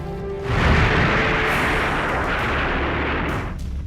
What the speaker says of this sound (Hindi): पटाखे और वहां रखे बारूद एक एक कर फट रहे हैं।